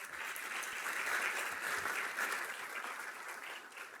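Audience applause at a council swearing-in ceremony, a steady wash of many hands clapping at moderate distance that swells slightly and then tapers.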